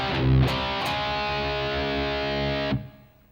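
Distorted electric guitar playing a short riff, two chugged low hits followed by a sustained heavy power chord that cuts off abruptly, loud and close with no talk.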